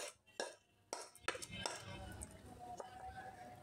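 Hot peanut brittle mixture being tipped out of a pan, with sharp metallic scrapes and clinks of a utensil against the pan, a few spaced knocks then a busier stretch of scraping, close and fairly quiet.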